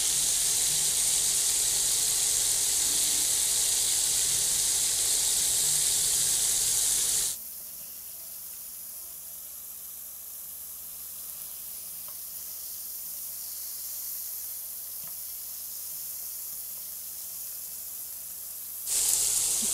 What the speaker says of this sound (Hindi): अब इसी तरह से आपने साइड पलटते रहना है ताकि ये अच्छी तरह से फ्राई हो जाए।